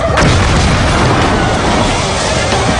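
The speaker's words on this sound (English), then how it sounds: "That caused nitromethane to be released into the engine prematurely, setting off the explosion." A nitromethane-fuelled drag racing car engine blows up, a loud sustained blast that fills the sound with dense rumbling roar from start to end, with no talking.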